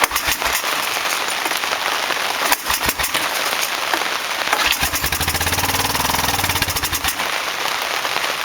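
Honda Bayou 300 ATV engine, 300cc and revived after sitting for five years, running with a dense steady rattling chatter close up, holding a constant loud level throughout.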